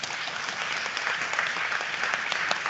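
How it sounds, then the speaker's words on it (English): Applause from an audience at a Cree School Board student event, honoring participants from all the nations: dense, steady clapping filling the whole moment at even strength, without voices. "je pense que ça vaut la peine que vous applaudissiez tout le monde"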